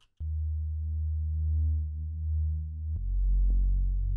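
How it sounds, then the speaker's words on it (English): A Serum synth bass patch in a liquid drum and bass style, run through soft clip distortion, plays a deep sustained note with rich harmonics, then shifts to a grittier, brighter held note partway through, alone with no voices. "let's turn on the distortion. But let's go to a soft clip mode."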